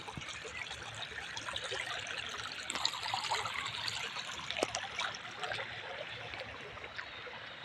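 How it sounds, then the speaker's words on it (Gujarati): River water flowing and trickling as someone wades slowly across a shallow river, a soft continuous babbling wash with occasional small splashes, faint and steady without talk. "ચાલો હવે આપણે ધીમે ધીમે નદી પાર કરી દઈએ"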